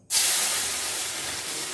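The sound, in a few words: water added to hot pan for green mango tok, sizzling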